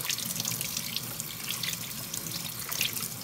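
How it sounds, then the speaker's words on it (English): Running tap water rinsing eggs at a kitchen sink, a steady close splashing stream with a few brighter drips and spatters throughout. "My mom always told me to rinse the egg off"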